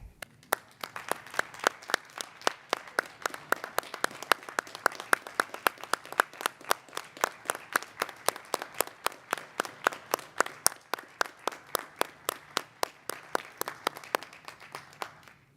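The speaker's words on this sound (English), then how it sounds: "You and your family and faculty members deserve a hearty round of applause." Graduation-ceremony applause: a small number of hands clap in a steady, fairly even rhythm for about fifteen seconds, crisp and close, with no voices over it.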